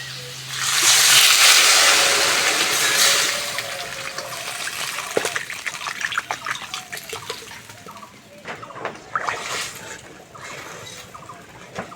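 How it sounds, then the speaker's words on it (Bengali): Water poured into a pan for a village-style parshe fish curry with salt, turmeric and chili powder, a loud splashing rush at first that eases into sloshing and sizzling bubbles, close up. "এবার আমি জল দিয়ে দেবো"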